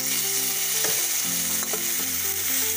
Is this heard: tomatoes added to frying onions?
yes